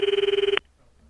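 An electronic telephone rings in Sentimental Graffiti, a fast warbling trill that is loud and clear and cuts off abruptly after about half a second.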